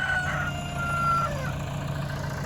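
A rooster crows nearby on a farm, a long drawn-out call over a low tractor engine hum in the background.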